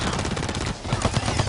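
Rapid automatic gunfire from a spinning-barrel gun in the shooter game BlackLight Retribution, a dense continuous burst that dips briefly and resumes with heavier low thumps.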